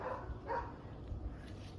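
A dog barks a couple of short, mid-distance yips in a garden, quick and moderately faint against a quiet outdoor background.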